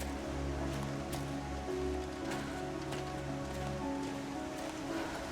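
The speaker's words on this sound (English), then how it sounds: "I definitely hear what sounds like a waterfall." Steady rushing water from an unseen waterfall in the survival game The Long Dark, a continuous broadband wash with a low hum beneath, moderately loud and unbroken with no voices.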